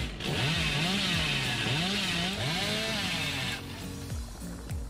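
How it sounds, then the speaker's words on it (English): A chainsaw in Dead by Daylight revs and whines with rising and falling pitch, running loud and close for several seconds before tapering off. "Can I already hear that chainsaw?"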